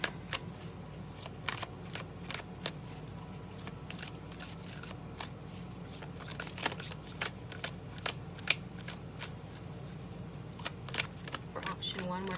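Tarot cards shuffled by hand in a quiet room, with soft repeated riffling clicks and scattered sharp snaps over a faint steady hum.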